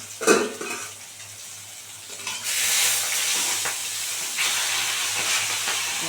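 Spice mix for a vetki fish-bone chorchori frying in a pan, a steady broad sizzling hiss that swells louder midway and carries on with no talk.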